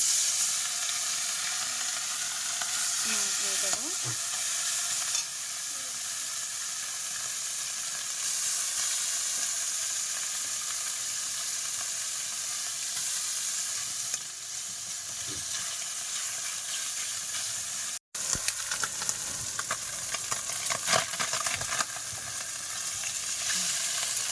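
Hot oil in a kadai sizzles steadily around small fish rubbed with salt and turmeric, a dense, even hiss with faint crackles that runs throughout and drops out only for a moment.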